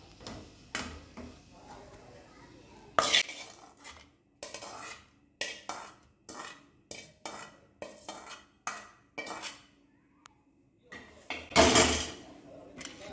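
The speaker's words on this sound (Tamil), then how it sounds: "இதை அப்படியே ஒரு பாத்திரத்தில் மாற்றிடலாம்." Sautéed tomatoes scraped and spooned from a pan into another vessel while making chutney, a run of short clinking and scraping utensil taps at close range with a couple of louder clatters, no talk.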